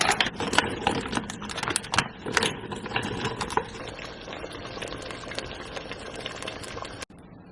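Tortellini simmering in boiling broth on a stovetop, a busy bubbling and clicking texture with sharp little pops that is loud at first and then settles into a steadier, softer boil.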